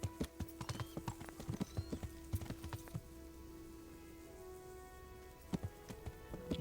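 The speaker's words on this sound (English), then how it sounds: "Where can we put our horse?" Horse hooves clip-clop on the ground in the medieval role-playing game Kingdom Come: Deliverance, a steady run of near, distinct hoof strikes with brief pauses, set against a soft rainy background.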